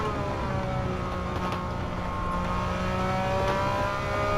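Gran Turismo 7 car engine revving hard under too much throttle too early during limited-slip differential testing, a steady loud drone with rising harmonic tones across the whole stretch, no talking.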